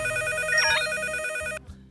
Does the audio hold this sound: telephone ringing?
yes